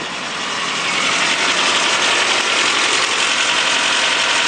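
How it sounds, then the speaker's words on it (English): A Nissan or Toyota five-speed truck engine idles steadily on a cold 27-degree day, a smooth, even mechanical whir that holds constant and fairly close throughout, with no talk over it. "Just got that nice sewing machine sound that these Nissans and Toyotas have."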